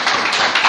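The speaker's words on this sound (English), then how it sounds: "Big round of applause" Conference audience applause, a dense continuous wash of many hands clapping, loud and close, brief.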